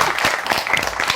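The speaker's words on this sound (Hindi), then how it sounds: "चलिए इस बात पे तालियां हो जाए" A studio audience bursts into brief, dense applause during an Eid special storytelling show, a close, even wash of many hands clapping together.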